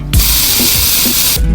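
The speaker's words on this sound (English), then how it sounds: "from the Pixabay website, I download the spray sound effect and put it for my edit" A continuous aerosol spray hiss runs loud and steady for over a second, starting and stopping abruptly, alone with nothing else around it.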